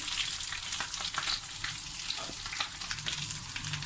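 Potato and egg kababs deep-fry in hot oil, a steady dense sizzle with scattered crackles and pops running continuously throughout, close and fairly loud with no voices.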